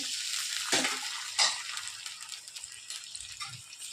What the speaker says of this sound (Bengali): টমেটোটা কষানো হয়ে গেছে, এখন একটু জল দিয়ে দিচ্ছি।